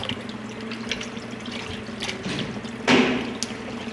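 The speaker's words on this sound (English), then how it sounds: "I also rinse it out in some flour water." Water sloshes and splashes as yard fowl meat is rinsed in lime and flour water, with steady trickling and a louder splash near the end, close by and with no talk.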